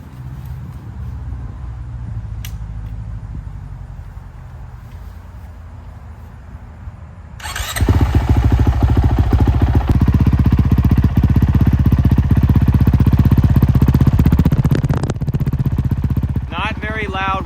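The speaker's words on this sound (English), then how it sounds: "So let's get this thing started up." Quiet rumble at first, then a Honda CRF450RL dirt bike engine fires up and settles into a loud, steady idle close by.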